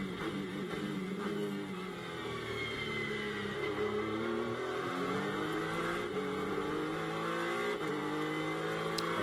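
An Acura NSX GT race car on the COTA circuit during a Blancpain GT World Challenge America race, engine note droning and shifting pitch as it slows into the brake zone for turn 11, steady and fairly distant.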